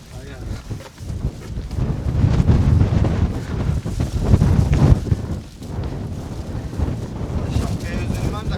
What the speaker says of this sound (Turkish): Bir rüzgar geldi şu an bir anda.